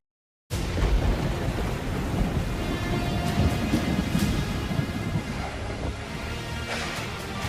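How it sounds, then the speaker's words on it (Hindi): Heavy monsoon downpour in Mumbai starts abruptly and roars on as a loud, dense wash of rain, with rolling thunder rumbling underneath throughout. "मूसलाधार बारिश के चलते मुंबई के कई इलाकों में पानी भर गया है।"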